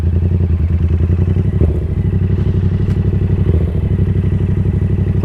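A motorcycle engine pulls hard in second gear during a wheelie attempt, a loud close throbbing drone with rapid pulses and a few clunks, no voices.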